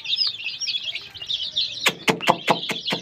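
Young chicks cheep in high, busy chirps, then a run of loud sharp peeps breaks out in quick succession, close by, with faint scuffling beneath.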